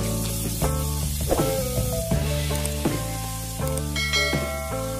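Cut potatoes sizzling in hot oil with tempering spices for aloo posto, a steady spitting hiss with occasional clinks of a utensil against the pan.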